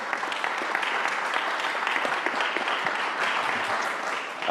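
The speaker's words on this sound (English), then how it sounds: "But another round of applause for our presenters today." Steady, dense applause from a forum audience thanking the presenters, a continuous loud wash of many hands clapping at once with no pause throughout.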